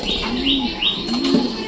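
Birds call with soft coos and chirps, repeated several times at close range, mixed with a quick flutter of wings.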